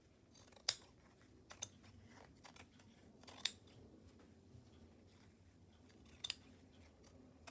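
Scissors cut across stiff fabric in a few separate crisp snips, sharp and close, spaced unevenly over a quiet background.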